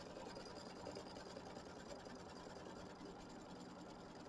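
A home sewing machine quilting a small Kimberbell mini quilt runs in a steady, continuous whir with a fine rapid stitching rhythm, close and moderately quiet throughout with no talking.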